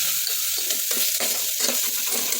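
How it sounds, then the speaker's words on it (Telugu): Spices sizzle while frying for tomato rice, with a spoon scraping and stirring through them in a pan, steady hiss broken by repeated scrapes, close and loud. "వేసుకొని మంచిగా కలుపుకోవాలి"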